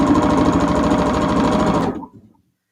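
A freshly oiled and cleaned sewing machine stitches a quilt block, giving a fast, smooth, loud mechanical whirr up close that stops abruptly after about two seconds.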